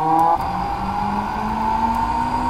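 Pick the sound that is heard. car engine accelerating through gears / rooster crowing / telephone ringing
car engine accelerating through gears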